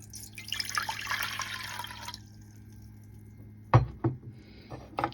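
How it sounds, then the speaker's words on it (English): A cup of water is poured into a pan with a steady splashing, trickling gush for about two seconds. A quiet pause follows, then a few sharp clanks of the pan or cup. "put a cup of water in a pan"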